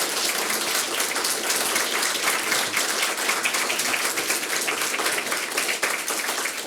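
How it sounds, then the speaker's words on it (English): Audience at a talk gives a round of applause, a dense steady wash of clapping from many hands throughout, close and full with no pause. "I think a round of applause is due for Rob."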